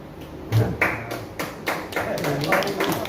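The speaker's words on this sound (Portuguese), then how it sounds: "uma salva de palmas aí" A small group at a church Bible study session gives scattered, uneven claps, a handful of distinct close hand claps spaced irregularly rather than a full ovation.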